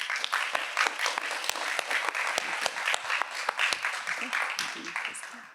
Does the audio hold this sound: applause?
yes